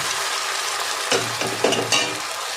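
Sauce poured into butter garlic potatoes frying in a pan: a loud continuous sizzle that flares into sharper crackling bursts as the liquid hits the hot fat, with light stirring.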